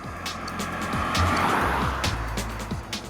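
A Honda BR-V with a 1.5-litre diesel engine drives along, its steady engine drone rising and falling with gear changes, close and fairly loud, with tyre and road noise throughout and no talking.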